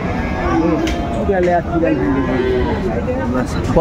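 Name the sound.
cow with calf mooing at cattle market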